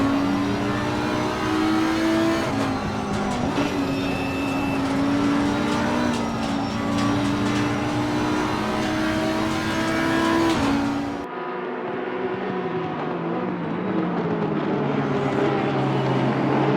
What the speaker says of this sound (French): Premier freinage du virage des crocodiles pour nos leaders, Bamber, Landry, Foster, qui vont se diriger